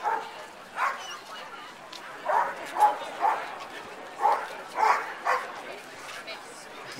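Dogs bark and yip in short bursts at a dock dogs jumping competition outdoors, several sharp barks spaced irregularly over steady background crowd murmur.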